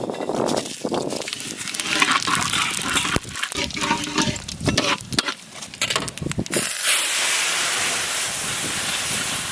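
Bay leaf, dried red chili and cumin tempered in hot mustard oil for a Bengali katla fish kalia, with sharp crackling and spitting that settles into a steady loud hiss of sizzling.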